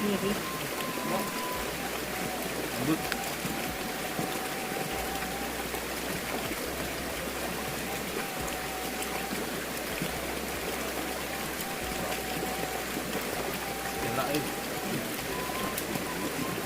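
Light drizzle falls in a steady, even patter and hiss that runs unbroken throughout, moderately close, with a low hum underneath and no clear voices.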